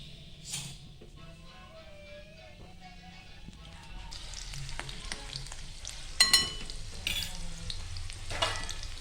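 Garlic fries in hot oil in an Indian kadhai for a drumstick-flower and dried-fish dish, a steady close sizzle with scraping stirs and a few sharper metallic clinks of the spoon.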